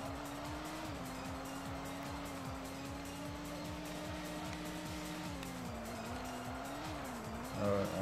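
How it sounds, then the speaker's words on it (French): A racing car in the Sega Touring Car game on the Saturn, with a steady droning engine whose pitch wavers as it slides and a thin tire squeal near the end, all in constant game audio with no voices. "On peut faire des dérapages"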